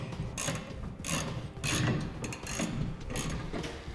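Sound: ratchet with 1/2 inch Allen socket tightening hitch bolts

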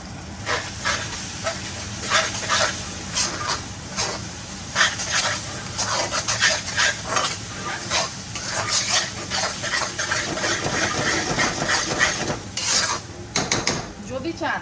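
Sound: stirring butter chicken masala in a pan

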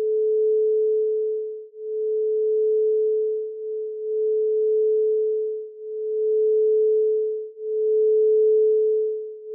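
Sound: quartz crystal singing bowl tone in F

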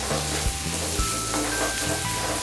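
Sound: chili, coriander and cumin powder frying in oil

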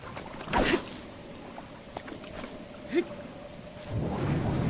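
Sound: rain in video game Zelda Breath of the Wild

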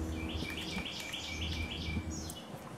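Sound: bird chirping outdoors

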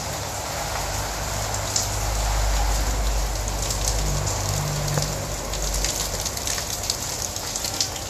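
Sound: rain falling outside

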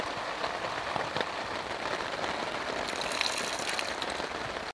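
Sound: heavy rain falling

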